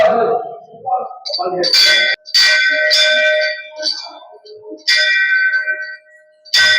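A temple bell at the Puri temple is struck several times at irregular intervals, each loud, bright clang ringing briefly, with people talking between the strikes.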